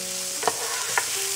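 Carrots and celery sautéing in a pan give a steady soft sizzle, with two brief stirring scrapes about half a second apart over the hiss.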